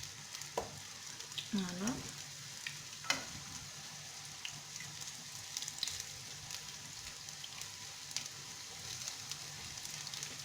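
Potato and cheese fritters frying in hot oil in a non-stick pan give a soft, steady sizzle with occasional light clinks and scrapes as they are turned, and a voice briefly speaks over it.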